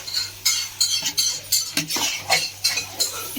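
A spoon stirs and sautés 2 kg of chicken with masala in a pot, making about ten quick, rhythmic metallic scrapes and clinks against the vessel, close and fairly loud with no talking.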